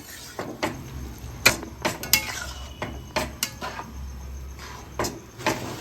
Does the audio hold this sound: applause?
no